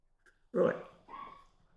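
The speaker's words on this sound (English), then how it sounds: "Let's see if I can keep this dog quiet by facing him away from the window." A dog indoors near a window gives a single close bark followed by a softer second bark or whine.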